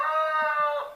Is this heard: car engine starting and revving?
no